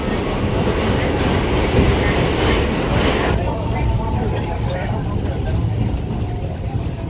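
A New York City subway express train rushes past with a loud, dense roar and rattling wheels. The noise drops somewhat midway, and a voice talks under it.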